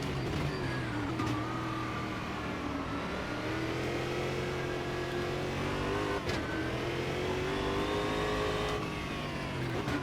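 A race car engine in Automobilista 2 drones continuously as it climbs and falls through the revs, with brief gear-shift dips along the way, heard close and steady with no voices.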